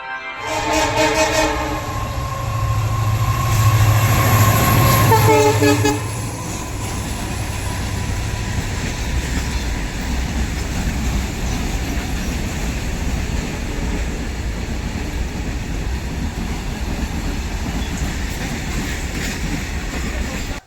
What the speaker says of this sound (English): Silchar Guwahati passenger special from Silchar to Guwahati is arriving on platform number 1.